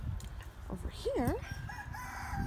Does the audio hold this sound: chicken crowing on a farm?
yes